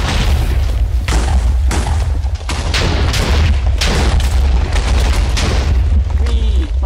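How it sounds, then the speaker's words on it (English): Repeated heavy booming blasts from chests exploding inside a video game build, dense and loud, rolling one into the next across the whole stretch with little pause between bursts. "Now whatever chest was in there is going to explode."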